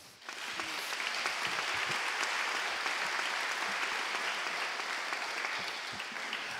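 Congress audience in a hall applauding three speakers: dense, even clapping that swells almost at once and holds steady and fairly loud for several seconds, with no voices over it.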